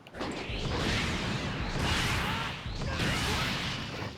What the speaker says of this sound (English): let's try Gigantic Explosion